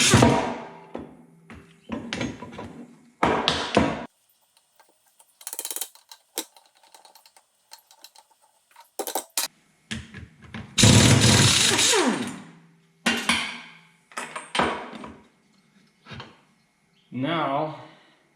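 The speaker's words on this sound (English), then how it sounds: "First thing I'm going to do is remove this half shaft here." Metal tools clank and scrape in short bursts on a workbench while the half shaft is pulled off a 1966 Corvette C2 rear wheel hub, with pauses between knocks and a speaking voice in between.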